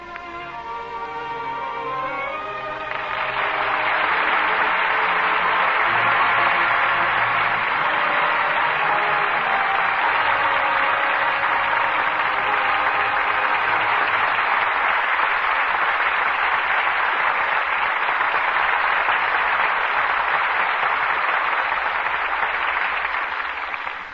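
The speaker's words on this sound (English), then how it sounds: "well-deserved applause for two superb performances from Joseph Cotton and Ida Lupino." Sustained studio audience applause at a 1947 Lux Radio Theatre broadcast, a dense steady wash of clapping from a large crowd, rising quickly and holding strong throughout.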